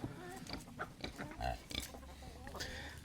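A farm pig oinks and grunts in short bursts while hoping for feed, close by, with a person talking over it in a rural outdoor setting.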